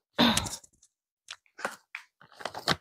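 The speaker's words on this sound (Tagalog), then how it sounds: "magmumukbang tayo ngayon ng chicharon" Crunchy chicharon pork rinds being bitten and chewed up close, a loud opening crunch followed by scattered sharp crackles and bursts of mastication with short quiet gaps, no speech.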